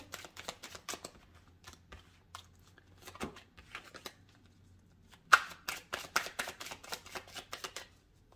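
Oracle cards being drawn and shuffled by hand, a run of quick soft flicks and riffles in uneven bursts with a sharper slap partway through, close and fairly quiet with no talk.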